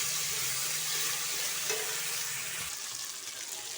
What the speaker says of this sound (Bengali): আদা রসুন আর লঙ্কা বাটা আমি দিয়ে দিলাম, দিয়ে করে সুন্দর করে কষিয়ে নেব